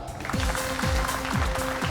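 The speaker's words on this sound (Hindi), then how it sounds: "और जोरदार तालियों के साथ स्वागत कीजिए हमारी डांसिंग क्वीन दीपनिता" Steady crowd applause fills a dance talent show stage as the judges are welcomed, dense continuous clapping layered over a thumping musical beat with regular bass hits.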